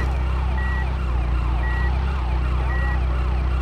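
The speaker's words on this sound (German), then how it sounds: "Der Krankenwagen ist hier." An ambulance siren in GTA Chinatown Wars wails in repeated sweeping cycles, loud and close, over a constant low engine drone, with no speech.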